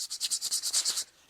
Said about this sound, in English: I can do some hand sanding